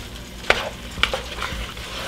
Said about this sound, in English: And now we're just gonna saute all of this for another 10 minutes.